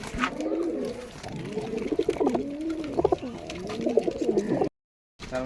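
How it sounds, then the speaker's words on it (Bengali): Local Giribaz pigeons from Rajshahi, a male with unfeathered feet, coo close by in repeated rolling, throaty phrases that overlap continuously before a brief silence near the end. "এগুলা রাজশাহীর লোকাল গিরিবাজ কবুতর, পায়ে লোম নাই, নর কবুতর।"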